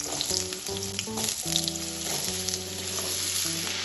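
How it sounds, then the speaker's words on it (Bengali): Potato pieces fry in hot oil with dried chillies and nigella seeds for aloo posto, making a loud, close sizzle with bursts of spattering and stirring clatter against the pan. "ভালোভাবে আলুটা তেলে ভেজে নেব"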